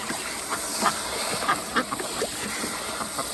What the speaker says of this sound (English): Billie Jean is an anaconda duck.